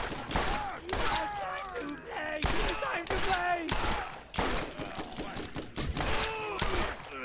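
Rapid gunfire from the video game Borderlands cracks out in repeated bursts of sharp shots and echoing blasts, loud and close throughout.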